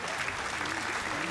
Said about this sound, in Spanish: Aplausos, pero para mí mismo